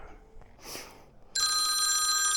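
A telephone starts ringing abruptly after a soft rustle, a steady bright electronic ring that continues loud and close to the end.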